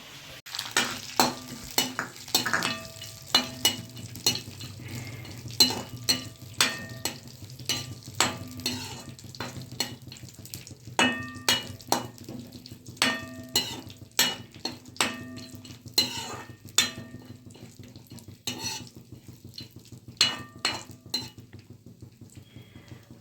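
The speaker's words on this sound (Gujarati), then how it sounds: "ડ્રાય ફ્રૂટ છે ને થોડાક ફ્રાય કરી નાખું મેં કીધું" Cashews and raisins frying in a pan of ghee for gajar ka halwa, a soft constant sizzle under repeated rhythmic scrapes and clinks of a spoon against the pan, no talking.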